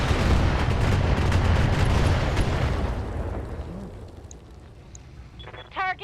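Artillery strike destroying a turret in BattleTech, a loud sustained rumbling blast that slowly fades over several seconds, followed by a few small pops and beeps.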